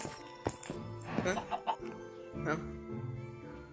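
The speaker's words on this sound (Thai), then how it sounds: "แล้วมีไก่ไว้ไข่ไก่ ไก่เป็นไข่นะเฮ้ย" Chickens cluck in the Minecraft video game, several short, close clucks scattered under a person talking excitedly.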